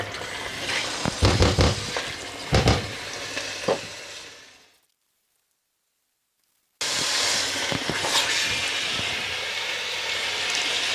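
Lamb and potato curry sizzles and fries steadily in a pan, with a few stirring clatters; the sound cuts out for about two seconds, then the loud frying resumes.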